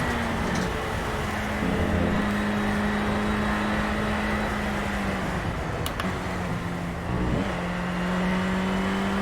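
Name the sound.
race car engine and gear changes, Project Cars video game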